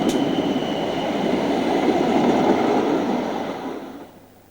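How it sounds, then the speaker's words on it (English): A Sunderland train crosses Newcastle's High Level Bridge in the 1990s, a broad rushing rumble with faint rail clatter that holds steady, then fades as it moves away. "A Sunderland train is seen on the High Level Bridge"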